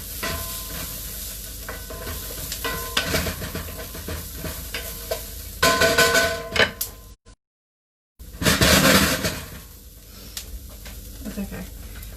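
Tofu shakshuka stirred in a pan with spices sprinkled over it, giving scraping and stirring clatters over a steady sizzle, broken by a brief silent gap before the stirring resumes louder.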